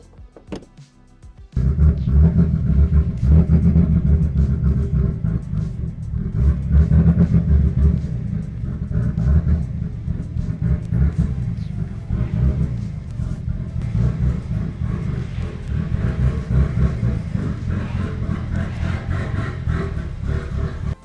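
Toyota Supra engine cranking and catching after a brief pause, then a deep steady rumble with small throttle swells as it creeps slowly into a garage.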